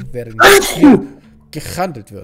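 A loud sneeze bursts out partway through German speech during a Vampire: the Masquerade tabletop role-play session, with talk continuing around it.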